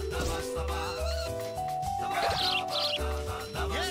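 Sparrows chirp in short bursts within the Katamari Damacy Reroll video game, mixed with the game's tonal music and effects.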